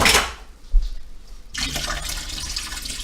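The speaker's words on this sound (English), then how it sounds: "I am going to drain the water from the oysters." Water from canned oysters drained into a sink, a short splash followed by a quieter gap, then a steady close rushing pour of liquid.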